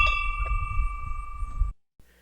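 A bright, ringing bell tone sustains over a low rumbling background for over a second, then cuts off abruptly into near silence.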